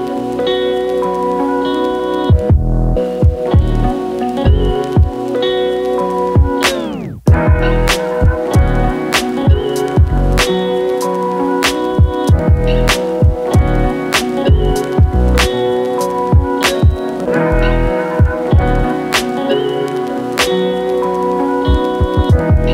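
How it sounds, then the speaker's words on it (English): Heavy rain falls steadily at a lake in Oxfordshire, making a dense, loud, continuous patter with frequent sharper drops hitting a nearby surface. "The weather has taken a turn for the worse, and it's now raining quite heavily"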